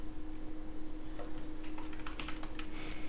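Computer keyboard keys are typed in quick, light clicks, sparse at first and then more frequent, close but fairly quiet over a steady background hum, with no talking.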